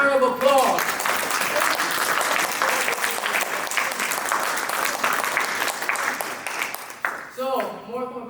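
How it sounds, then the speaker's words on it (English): Sustained audience applause for panel members at a community viewing event, a thick, even wash of clapping from a room full of people, with a voice speaking briefly just before and after. "let's give these panel members and contribution folks a round of applause"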